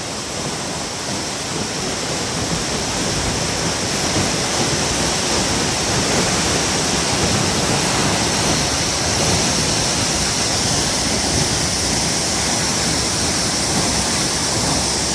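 Heavy water pours down from above onto a Nepal mountain road, throwing spray. The roar is loud, steady and unbroken, with no voices.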